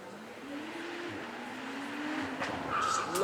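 A Porsche 911 Turbo S driven hard at a supercar weekend event, its engine note rising steadily as it accelerates, fairly distant and moderately loud, with a brief higher whine near the end.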